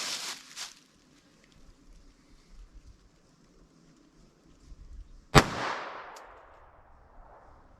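A single sharp report from a pistol firing Aguila Interceptor .22 LR ammunition, loud and close, followed by a brief decaying echo in quiet outdoor surroundings.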